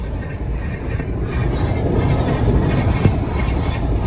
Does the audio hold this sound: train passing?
yes